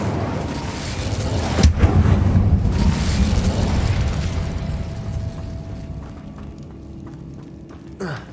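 Incendio fire spell in Hogwarts Legacy erupts as a loud, rumbling burst of flame that swells and slowly fades, ending with a sharp click.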